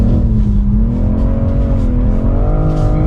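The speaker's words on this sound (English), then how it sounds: "Massive drifts!" A BMW M440i G22 drifts on a track, its engine droning loudly and steadily with a rising-and-falling pitch and a continuous tyre squeal layered over it, with no talk.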